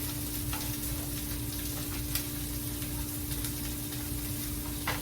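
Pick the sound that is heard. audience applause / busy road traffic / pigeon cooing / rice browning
rice browning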